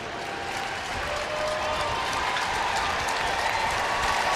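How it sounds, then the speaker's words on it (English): A soccer stadium crowd applauds a player substitution during a women's match between Portland and its opponent, steady, dense clapping that swells slightly and stays loud for several seconds. "now the crowd will applaud both her entrance and the exit of Amandine Henry, who scored the game's first goal."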